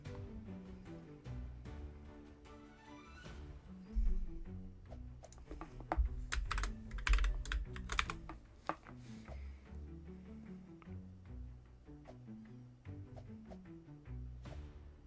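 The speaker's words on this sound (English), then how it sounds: "It's just my keyboard's kind of loud. I have a nice mechanical keyboard." A loud mechanical computer keyboard clatters with fast, uneven typing, sharp close clicks and bursts of rapid keystrokes that continue throughout.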